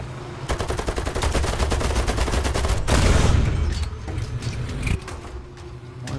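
Aircraft guns hammer out rapid, dense bursts in a War Thunder air battle, a continuous rattling stream of fire that breaks off briefly before resuming more sparsely amid engine drone.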